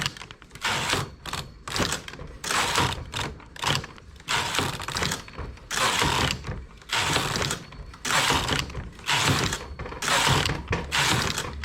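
A domestic knitting machine's carriage is pushed back and forth across the needle bed, making repeated loud rattling, clacking passes of about a second each, separated by short pauses, close up with no talking.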